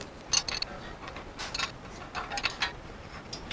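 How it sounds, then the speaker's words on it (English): A 22 mm wrench working the outer tie rod end nut on a Bronco, giving faint, close metallic clicks in brief ratcheting bursts separated by quiet gaps. "we're going to remove the outer tie rod end with a 22 millimeter"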